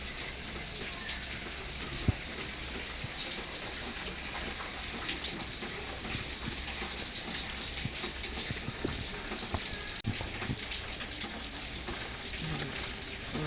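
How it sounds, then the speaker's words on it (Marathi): Steady rain falls and patters on surfaces nearby, a constant soft hiss with occasional louder drips, no voices. "अचानक पाऊस पडायला लागला मस्त असा पाऊस पडायला लागला"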